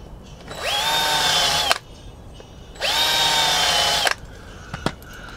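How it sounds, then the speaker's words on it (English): A power drill countersinks screw holes for 3.5–4 by 25 mm screws in a camper van kitchen build, whining loud and close in two steady bursts of about a second each, separated by a short pause and followed by a few clicks. "But yeah, so you just want to countersink."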